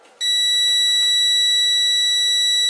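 A multimeter on continuity test beeps as its probe touches a ground point on a computer motherboard, one continuous, steady electronic tone that starts abruptly and holds loud to the end.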